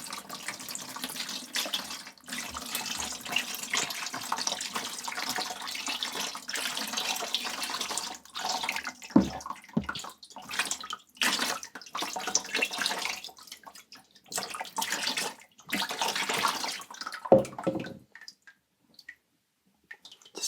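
Glaze dripping and running off a twisted swirly textured pottery bowl, a watery trickle with intermittent drips and splashes that thin out toward the end, fairly close, no talk.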